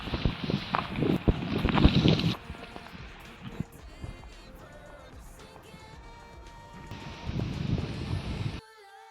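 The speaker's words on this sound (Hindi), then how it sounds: "बहुत प्यारी हवा चल रही है, बहुत प्यारी।" Cool outdoor wind gusts buffet the microphone in loud, rough rushes at the start and again near the end, with quieter background between.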